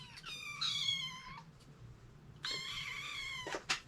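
A kitten gives two drawn-out, high, close meows separated by a short pause, heard clearly on its own.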